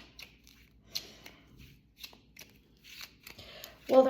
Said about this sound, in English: while I'm waiting for these cards to fall